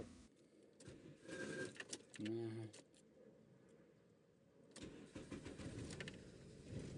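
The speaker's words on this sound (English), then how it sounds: "after all these manipulations, of course you need to start the engine." A car engine cranking and catching on a vehicle with burned engine blocks and rotten wiring, a short starter whir followed by the engine firing into a rough running rumble, recorded close with faint background noise.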